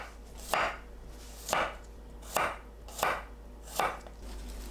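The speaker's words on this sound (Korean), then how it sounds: "마늘을 편으로 썰어 주세요." Garlic cloves are sliced into thin pieces with a kitchen knife, producing five evenly spaced, crisp chops against a cutting board. Each cut is close and clear, with no voices.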